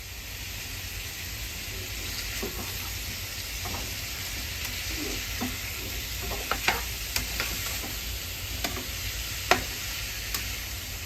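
Pork belly with layered lean meat and fat, unmarinated, fries in oil with a steady dense sizzle, scattered crackles and small pops standing out near the end.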